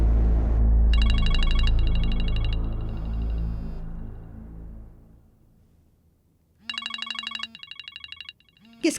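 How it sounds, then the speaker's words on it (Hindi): A telephone rings in two bursts of repeated electronic trills, loud and close, with a low hum between them and no talk over the rings. "किसका फोन आ रहा है?"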